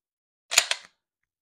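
Empty pistol magazine dropped and a fresh one inserted during dry fire practice, a quick close pair of sharp metallic clicks within a fraction of a second, alone with silence around them.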